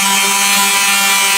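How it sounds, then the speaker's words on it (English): Palm sander smoothing the edges of a cut wooden circle for a holiday yard decoration, a steady loud whir with a constant hum running throughout, no pauses. "smooth that out with the palm sander right quick"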